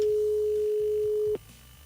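Steady telephone dial tone during a radio call-in show as a caller's line connects, a single continuous hum that cuts off near the end, leaving faint background noise.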